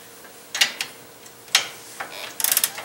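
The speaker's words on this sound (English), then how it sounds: "Connect your sway bar end link and make sure the nut is tight." Ratchet clicks in short separate bursts while tightening the nut on a Dodge Dakota 2WD sway bar end link during a ball joint job, with a quicker run of clicks at the end.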